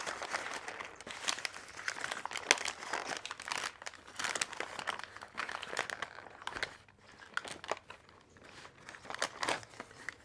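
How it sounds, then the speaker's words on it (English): Butcher paper being crumpled and handled in bursts of crinkling and crunching, close and fairly loud, with brief pauses between handfuls, set aside after wrapping smoked chicken breasts. "Set these butcher paper aside."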